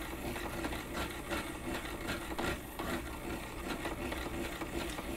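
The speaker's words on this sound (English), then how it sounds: "Wind back and forth and back and forth and back and forth." A bobbin wound for weaving on a winder like a sewing machine bobbin winder, a steady whirring mechanical hum with a faint rhythmic pulse as thread builds back and forth, continuous and close.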